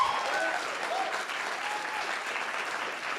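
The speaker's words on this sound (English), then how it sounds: "Let's give these instructors another round of applause." Audience at a digital arts and graphic design instructor showcase breaks into sustained, dense applause that holds steady at full loudness throughout.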